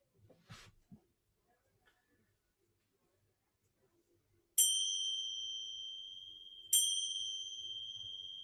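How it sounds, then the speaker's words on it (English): A ringing bell marking the end of a yoga practice, struck twice a couple of seconds apart, each a clear bright strike with a long, slowly fading ring in an otherwise quiet room, after some faint rustling. "the sound of the bell marking the end of our practice"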